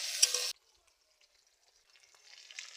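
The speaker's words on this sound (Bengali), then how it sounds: "পেঁয়াজটা ভাজা ভাজা হয়ে যায়।" Onions frying in oil on a village clay stove: a loud, close sizzle for about half a second that cuts off sharply, then near silence before a faint crackle slowly returns.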